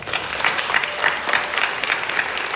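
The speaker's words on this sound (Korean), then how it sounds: "뒤에 고생해주신 스태프분들께 여러분 다시 한번 큰 박수 한번" Dense, steady audience applause at a musical theatre curtain call, crowd clapping loudly and continuously for the backstage staff with no voices heard.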